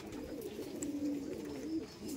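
Madras pigeons cooing softly and steadily, low murmuring calls at close range over a faint background hum.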